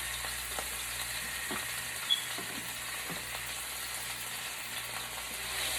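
Meat browning in an Instant Pot for birria, a steady broadband sizzle and crackle throughout with a few soft stir or scrape knocks, close and even in level.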